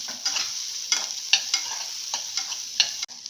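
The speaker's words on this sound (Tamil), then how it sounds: "பெரிய வெங்காயத்தை அதில் சேர்த்துக்கலாங்க. சேர்த்துட்டு நல்லா கலர் மாறுற வரைக்கும் கொஞ்சம் சகப்பாக லைட்டாக செவந்து வர வரைக்கும் வதக்கிக்கலாம்" Large onions sautéing in a pan make a continuous close sizzle punctuated by frequent quick spatula stirs and scrapes in an uneven rhythm, with no one talking.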